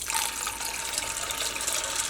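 Water poured from a tap into a vessel of washed lentils set to soak, a short steady gushing splash, close and continuous with no voices.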